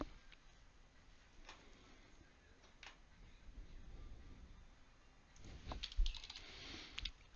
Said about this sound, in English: you can see as soon as I start typing